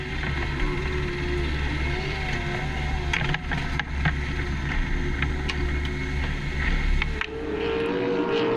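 The Mega Fuels offshore superboat idles after a race at Mackay, Queensland, holding a loud, steady, low mechanical rumble with a droning hum and a few faint rattles, with no talking.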